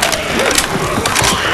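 Rapid mechanical clicks and ratcheting clatter of a gun being reloaded in Left 4 Dead 2, loud and close over busy game ambience.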